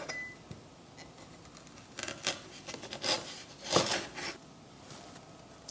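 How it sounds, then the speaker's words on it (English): Knife slicing galangal root diagonally on a cutting board, a few soft crunchy cuts and taps spread over several seconds, close but faint against quiet room noise. "I would say just cut them diagonally and cut them into slice"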